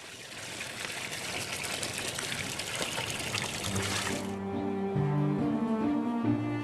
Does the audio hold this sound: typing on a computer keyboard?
no